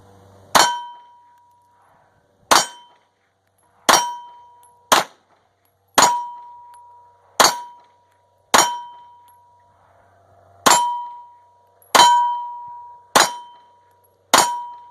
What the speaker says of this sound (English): this is me shooting the 84 grainers to see if there's really an issue with the ammo and the gun